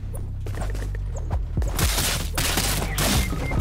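Gunfire in a Fortnite duo match crackles in dense broadband bursts, quieter ticks and clicks at first, then a sustained volley with a short break near the end, loud and near.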